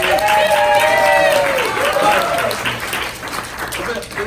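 An audience claps in a steady wash of applause that fades over a few seconds, with loud voices and cheering mixed in over the clapping.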